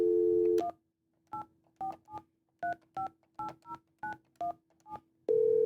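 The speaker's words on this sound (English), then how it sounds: "Our dialing plan calls for dialing a 9" Allworx Verge desk phone on speaker: a steady dial tone cuts off, then a quick run of about a dozen short DTMF keypad beeps in uneven rhythm, and a tone returns at the end.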